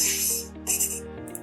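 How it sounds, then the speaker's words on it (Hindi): Paper tear sound effect from an Adobe Premiere Pro effects library: a short, quiet, crisp ripping burst with a second tearing surge and a quick final snip, heard alone. "ये पेपर टेयर का साउंड इफेक्ट है गाइस, जैसे कि आप देख सकते हो।"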